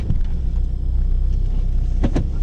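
A Jeep drives on the road after a brake master cylinder install, giving a steady low engine and road rumble inside the cabin, with two brief sharp knocks or clunks near the end.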